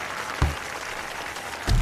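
Crowd applause in the London 2012 video game archery event, two short bursts of clapping against a quiet, steady crowd background.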